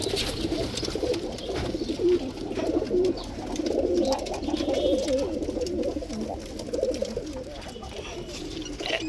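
Pigeons, including silver males and brooding females, coo softly and continuously, several birds murmuring together nearby with a low background hum.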